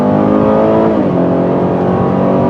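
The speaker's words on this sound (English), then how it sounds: "Decent acceleration for sure." A 2020 Chevy Traverse V6 engine hums loudly and climbs steadily in pitch as it accelerates, heard from inside the vehicle with no talking.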